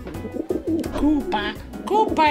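A pet bird calls in short cooing and warbling bursts, close and fairly loud, mixed with a person speaking nearby.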